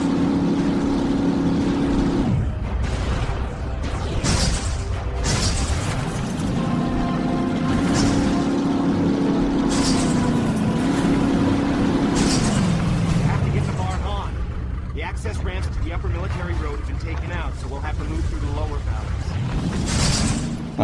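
A hydraulic-jump vehicle in the game Advent Rising drives with a loud, continuous engine drone that rises and falls in pitch, with brief bursts from jumps and impacts and a voice talking over it.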